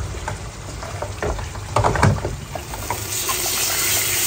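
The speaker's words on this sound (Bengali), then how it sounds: "ডিমগুলোকে একটু ভেজে নেই" Eggs frying in a pan in a home kitchen, a steady crackling sizzle with louder spitting bursts around the middle, close and continuous with no talking.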